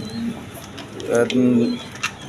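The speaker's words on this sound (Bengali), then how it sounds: "এখানে এক পেয়ার টিউলিপ কবুতর আছে" Tulip pigeons coo in a low, throaty, rolling phrase that swells near the middle, heard close by under a voice talking.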